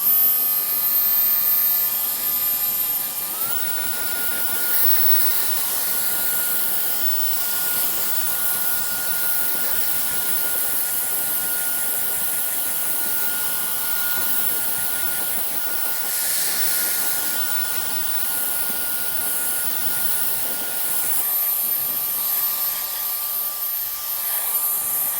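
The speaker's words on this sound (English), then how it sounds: "I'll switch over to my blow dryer, start from the crown, migrate towards forward, make sure the back is all velvety soft." A blow dryer works over freshly cut hair in a barbershop during a mullet cut, giving a continuous loud, airy roar that holds steady throughout with only slight shifts as it moves around the head.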